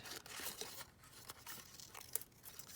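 Paper is cut out by hand for a mixed-media art journal page: quiet, close crinkling and snipping with irregular bursts of rustle and a few sharper crunches, with no talking.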